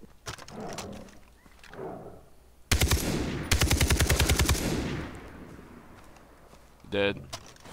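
AK rifle fire in Far Cry 3 rattles out in two loud rapid automatic bursts, each a dense string of close shots, with quieter game sounds and a brief electronic tone before and after.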